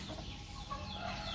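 Chickens clucking inside a backyard chicken coop, a steady mix of soft overlapping clucks and low fowl chatter at moderate distance, continuous throughout with no talking.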